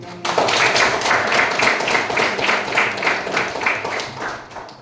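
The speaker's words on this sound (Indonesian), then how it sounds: "tepuk tangan untuk" A classroom of students claps for classmates who scored 100 on a test: a steady, fairly rhythmic patter of many hands, loud and close, running throughout with no talk on top.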